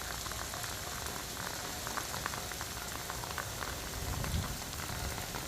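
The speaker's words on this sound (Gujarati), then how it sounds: "કોડીનારમાં પણ 1 કલાકથી અવિરત વરસાદ છે।" Monsoon rain in Kodinar, Gujarat, pouring without a break as a dense, even hiss of drops striking the ground, heard throughout with no talking.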